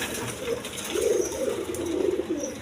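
Cooing from a pair of Rajgolla female pigeons, a soft low murmuring coo that swells and repeats in close, steady phrases over faint background noise.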